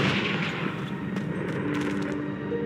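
Continuous crackling blast with sharp bursts and a steady roar from a Confringo fire spell cast in Hogwarts Legacy, loud and close with no talking.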